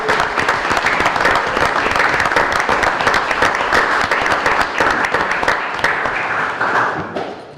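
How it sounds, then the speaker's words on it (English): An audience at a city commission meeting applauds an award winner, a dense burst of clapping that holds steady for several seconds before thinning out at the end. "And I think she deserves an applause,"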